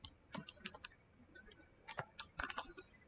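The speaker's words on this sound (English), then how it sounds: "I'll go ahead and type it in the comments." Keys clacking on a computer keyboard in short irregular bursts, close and fairly quiet, with pauses between clusters of strokes and no talking.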